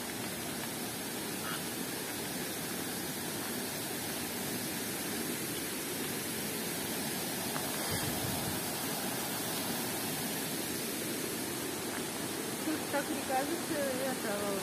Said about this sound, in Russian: Ну как там шумит вода.